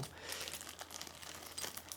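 A self-sealing plastic bag is handled and opened during a tripod head unboxing, giving soft, close crinkling and rustling with a few sharper crackles, faint and steady with no talk.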